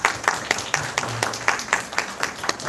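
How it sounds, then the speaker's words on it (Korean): Children and teachers in a church elementary Sunday-school class clap together in a quick, regular rhythm of strong, even beats, close and lively with faint voices underneath. "우리 다 함께 잘했다고 박수!"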